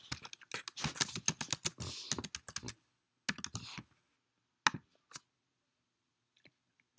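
Someone types on a computer keyboard to sign in, with rapid clusters of crisp, close keystrokes, a brief pause, another burst, then scattered single taps fading into near silence.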